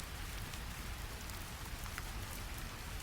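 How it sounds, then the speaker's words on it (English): Rain falls steadily on empty stone courtyards with a soft, continuous patter, faint and even, with scattered drops ticking through the hiss. "Rain falls on empty courtyards."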